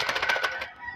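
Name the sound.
captive bird calling, alimokon hunting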